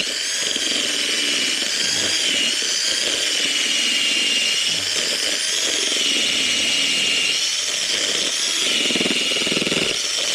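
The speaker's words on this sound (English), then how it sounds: "I thought I might as well drill a hole, be as tight as we can" A power drill bores a hole for antenna wire while an 80m dipole is set up, giving a steady, high-pitched whine with gritty grinding underneath. It runs loud and continuous for about ten seconds without speech.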